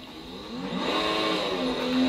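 A car engine in a sim racing game drones steadily and rises slightly in pitch as it revs, continuous and fairly loud with no talk.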